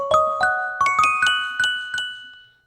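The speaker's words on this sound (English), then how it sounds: "music box. That's our Christmas bells." Bright synthesized Christmas bells keyboard preset in a short descending-then-rising run of about six chimes, each ringing out and fading.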